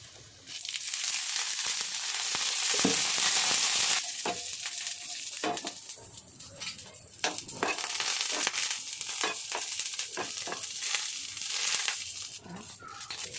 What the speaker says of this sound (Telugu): కొద్దిగా పచ్చిమిరపకాయలు ఒక 4-5 పచ్చిమిరపకాయలు వేసుకొని కొద్దిగా ఆయిల్ వేసుకొని ఇవి కూడా వేపాలి